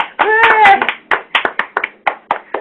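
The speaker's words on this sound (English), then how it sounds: "let's give both of these absolutely wonderful film producers a big round of applause." A small group claps in a short round of applause for two film producers during a webinar broadcast from studios in Rockville, Maryland, with a brief voice at the start, then a few loud, close, uneven claps.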